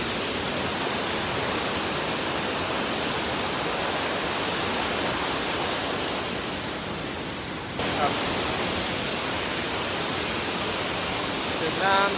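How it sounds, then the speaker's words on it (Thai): Steady broadband roar of a waterfall at Tham Than Lot Yai in Kanchanaburi, continuous and fairly close, with a brief dip partway through before the rushing water returns at full strength. "น้ำตกแล้ว"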